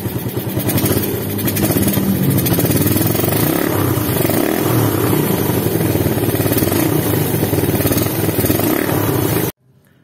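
A Suzuki Satria FU motorcycle fitted with a PWK 28 carburetor revs hard and loud at close range, a dense, continuous engine roar with rattling clatter that holds for about nine seconds before cutting off abruptly.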